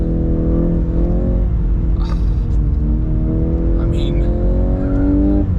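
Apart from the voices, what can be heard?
Volkswagen Golf R 20th Anniversary car doing big skids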